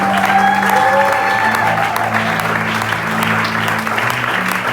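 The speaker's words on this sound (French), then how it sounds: "Est-ce que quelqu'un peut réellement acclamer pour Jésus?" An audience at a church gathering applauds and cheers, a dense steady wave of clapping mixed with crowd shouts, loud and close, with a sustained tone underneath.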